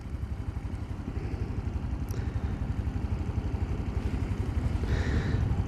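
Honda C125 motorcycle engine labouring under load at low revs, a continuous close, rumbling throb with fast rhythmic pulsing and wind noise, no talk.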